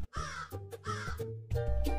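A crow in a children's fable caws loudly and harshly in three quick bursts, close and clear with no talk.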